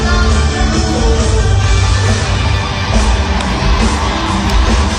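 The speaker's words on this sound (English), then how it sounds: "The crowd sort of went from yeah to ooh." A large crowd at a birthday extravaganza roars continuously, loud and dense, with yelling and cheering that shifts slightly in tone over the span.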